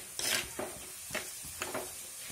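Kashmiri chili powder and spices sauté in a pan for chicken curry, with several spaced stirring scrapes over a faint, steady sizzle.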